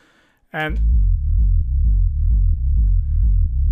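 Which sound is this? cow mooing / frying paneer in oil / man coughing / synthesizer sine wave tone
synthesizer sine wave tone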